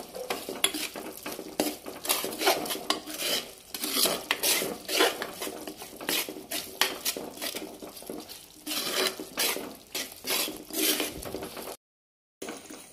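Spoon stirring Kerala-style prawn roast gravy with kodampuli in a pan, steady scraping and clinking of metal on the pan over a soft sizzle, with one brief silent gap near the end.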